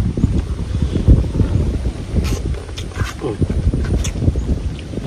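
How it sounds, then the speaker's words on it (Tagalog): Strong wind buffets the microphone outdoors, producing low rumbling gusts that rise and fall throughout, with faint voices in the background. "Sarap ng hangin."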